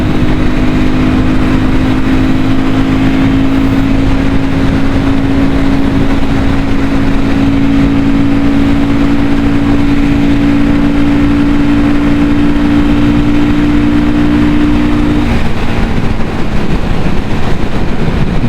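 A Royal Enfield Guerrilla 450 motorcycle cruises in sixth gear at high speed, its engine holding a steady loud drone under heavy wind rush, with the tone easing slightly near the end.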